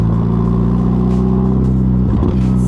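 A Ferrari Roma's engine cruising, a steady low drone with road rumble, close and loud throughout, easing briefly near the end.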